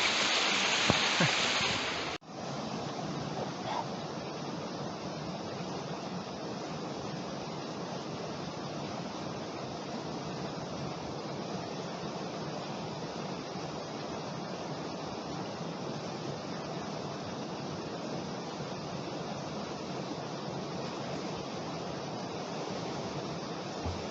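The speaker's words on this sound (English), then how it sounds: "This is the lower falls." The lower falls of a waterfall in the west of Ireland pour in a constant, even rushing roar, heard up close and alone for the whole stretch.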